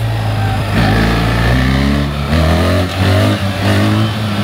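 A BMW GS 1300 Adventure motorcycle accelerates hard through its gears, its close, loud engine note climbing in pitch and briefly dropping at each upshift.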